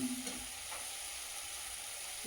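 Spice paste for a yogurt prawn curry fries in oil, a soft, steady low sizzle with faint stirring scrapes, close by and with no talking.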